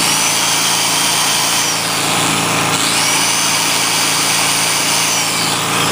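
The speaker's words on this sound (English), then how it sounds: "Try the drill out." An electric drill plugged into a Generac portable generator outlet whirs steadily at high speed, its motor whine loud and close, with a slight pitch change partway through.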